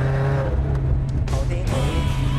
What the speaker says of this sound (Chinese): 对啊，这是应该是钛管的声音